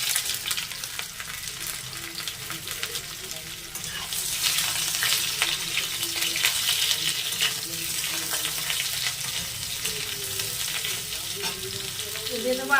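Fried vegetables and green chillies added to a hot pan for shukto, sizzling loudly and continuously, with the hiss swelling after a few seconds and occasional stirring scrapes underneath.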